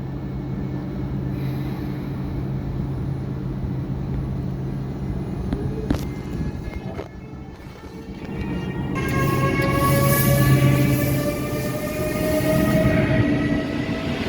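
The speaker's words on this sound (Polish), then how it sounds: "Wyjeżdża pierwszy wagon, pierwsza do czasu druga klasa, druga klasa" A PKP Intercity passenger train pulls out of the station at Wysoka Kamieńska with a loud, steady rolling rumble and clatter, later joined by rising whines and a brief squeal as it gathers pace.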